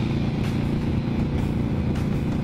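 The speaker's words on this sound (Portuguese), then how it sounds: "E agora eu vi o carro passando na contramão ali" A car goes by close in steady road traffic, heard from a Kawasaki Vulcan 800 motorcycle fitted with a car tire, as a continuous low engine and tire rumble with no voices.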